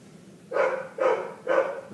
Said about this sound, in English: The dog barks some more.